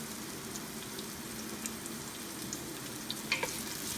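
Onions sautéing in a pan for beef nilaga, a soft, faint continuous sizzle with a few light crackles and pops near the end.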